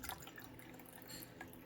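Water pours from a glass teapot into a cup in a steady, continuous trickling stream, close and moderately quiet, with no voices.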